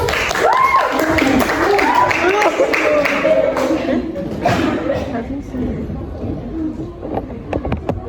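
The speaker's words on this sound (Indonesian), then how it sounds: "Tepuk tangan dulu nih semuanya." An audience at a school talk show event claps together in a loose, moderately loud round of applause that gradually fades, with some chatter and laughter mixed in.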